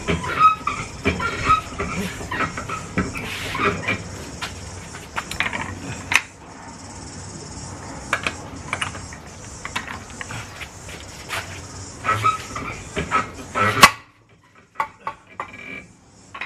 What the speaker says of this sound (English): I'm gonna try the rattle gun